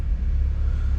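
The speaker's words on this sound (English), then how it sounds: "get the car started, confirm the mileage, and just demonstrate that the car starts as it should with no warning lights" A BMW E89 Z4 35i M Sport with DCT gearbox, its engine giving a brief, close, steady low rumble.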